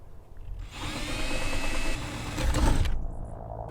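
A power drill bores holes for solar panel brackets on a DIY van installation; a motor whine builds and holds for a few seconds, then stops abruptly.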